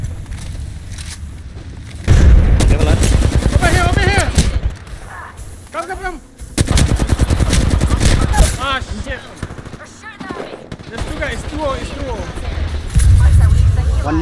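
Loud automatic gunfire in an Apex-style shooter comes in bursts and rapid volleys that start, stop and resume, with players talking in between and sometimes over the shots.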